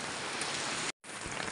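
Steady rain falling outdoors: a dense, even hiss of drops with a brief cut of near silence in the middle, faint and without any talk.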